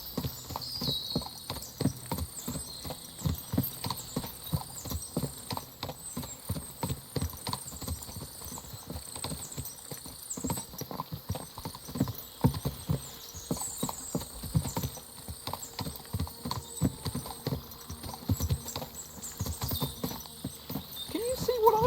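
Rapid clip-clop of many horse hooves in the video game Kingdom Come: Deliverance II, a dense continuous patter with occasional neighs, fairly close and steady throughout.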